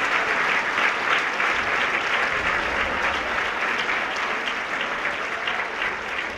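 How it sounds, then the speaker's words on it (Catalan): At a cantata concert, an audience breaks into sustained, dense applause that holds a steady level throughout and eases slightly toward the end. "Un aplaudiment també per en Sam i l'Anna, de Canya que no es conya."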